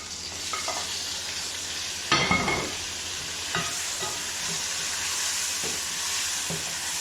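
Onions for keema do pyaza fry with a steady close sizzle. A burst of spattering marks tomatoes being dropped in, followed by occasional stirring scrapes. No one speaks.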